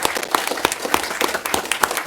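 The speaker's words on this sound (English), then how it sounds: "I'd like y'all to give all these folks a round of applause for their years of service." An audience at a council meeting applauds, producing a steady patter of many hands clapping at moderate loudness, close and continuous for a couple of seconds.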